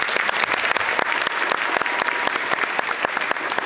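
Audience clapping throughout at a symphonic Christmas concert, a vote for a favorite decorated Christmas tree; steady, dense applause from a crowd, fairly close and even in loudness.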